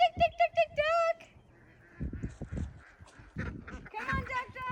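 Farm ducks give a rapid burst of loud, nasal honking quacks at the start, followed by scattered softer calls as a person speaks, calling them in.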